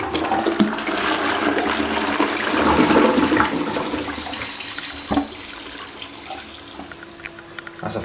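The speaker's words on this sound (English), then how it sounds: "I expected the flush being worse than that, but it's good." A 2014-2015 Armitage Shanks Sandringham toilet with a Fluidmaster flush valve flushes in a strong close rush of water, then quiets into a thinner trickle and hiss as the cistern refills.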